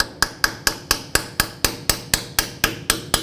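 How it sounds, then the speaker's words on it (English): A hammer strikes a small chisel bit about fourteen times at an even, quick pace to turn a rusted C-clip free while replacing a 4WD actuator on a 1997–2003 Ford F-150, loud sharp metallic blows close by, no talking. "Now I'm going to take a little chisel bit, and what I want to do is turn this C-clip, or at least hopefully break it free."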